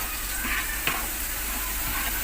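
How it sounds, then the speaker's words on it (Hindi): Semolina roasts in hot ghee with small cardamom, a dense, even sizzle that continues throughout, close up, with one brief scrape of stirring partway through. "हम जो है इसमें सूजी ऐड कर देंगे"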